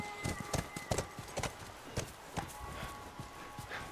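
Horse hooves clip-clop on hard ground in The Last of Us, a run of sharp, fairly close hoofbeats in an uneven walking rhythm that gradually thins out toward the end.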